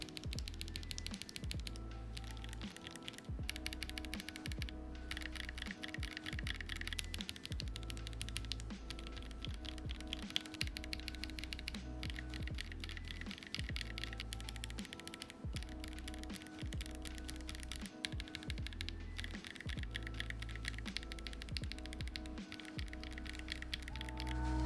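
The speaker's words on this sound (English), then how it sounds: "a sound comparison with every single linear switch that I own" Continuous fast typing on a mechanical keyboard with linear switches, dense muffled keystrokes at a steady pace over a low background hum.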